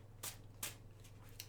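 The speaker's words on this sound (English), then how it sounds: "I do shuffle before I start" Soft papery riffles and flicks of tarot cards being shuffled by hand, a few quick bursts close by in a quiet room.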